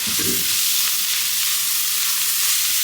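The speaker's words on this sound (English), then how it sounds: "I'm gonna go ahead and add 3 cloves of garlic diced." Three cloves of diced garlic sizzling in a hot pan with meat, a steady bright hiss of frying that holds evenly throughout, loud and close.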